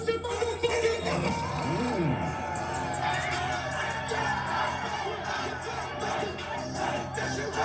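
Packed concert crowd roaring and shouting as the music shifts. A thick, continuous din of voices mixes with loud, bass-heavy music.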